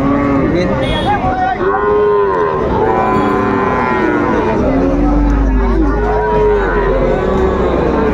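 A Sahiwal bull calf at a busy cattle market lets out several long, drawn-out moos in a row, loud and close, with a low rumble and faint chatter behind.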